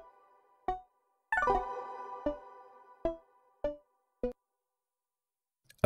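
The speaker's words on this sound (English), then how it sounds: "a phaser," A phaser-treated synth playing an E sounds alone: a series of short, evenly spaced plucked notes around one longer ringing chord, with no speech.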